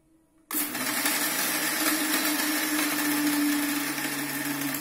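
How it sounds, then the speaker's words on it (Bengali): A kitchen mixer grinder starts abruptly and runs steadily, blending cold coffee with a loud, continuous whirring drone close by, the motor pitch holding steady after a brief quiet start. "এবার আমি এটাকে একটু মিক্সারে গ্রাইন্ড করে"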